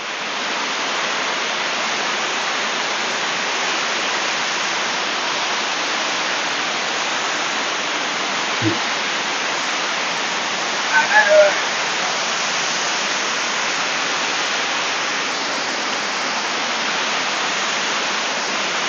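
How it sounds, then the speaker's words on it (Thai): Tat Yai waterfall at Nam Nao in Phetchabun, Thailand, gives a steady, loud broadband roar of falling water. The roar continues without a break and stays close, with a couple of brief small knocks partway through. "น้ำตก ตาดใหญ่ อำเภอน้ำหนาว จังหวัดเพชรบูรณ์นะครับ"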